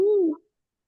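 A voice imitates a bird call, a single short whistling coo in a classroom setting, close and clear, lasting under half a second before silence.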